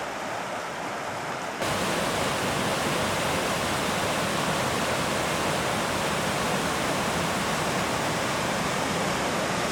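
Rush Creek in the Sierra Nevada rushes as a steady, dense roar of flowing water, close and loud, kicking in abruptly after a brief quieter moment and continuing unbroken with no voices.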